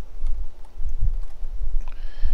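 Quick, light taps on a computer keyboard come in an irregular patter, close and fairly quiet.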